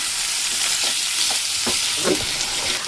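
Chopped tomatoes sizzle in hot oil with a continuous close crackle, and occasional spoon scrapes stir through it.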